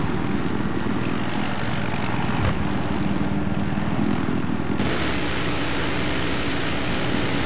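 Helicopter rotor and engine drone from Battlefield 3 multiplayer on Damavand Peak, a loud, steady broadband roar filling the whole clip with a brief dip and shift midway.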